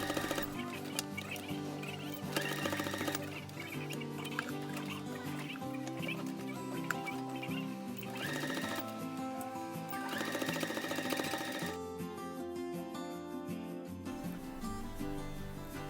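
Sewing machine stitching around the edge of a fabric face mask, its motor whirring steadily in loud continuous runs with brief changes in pace, set against background music.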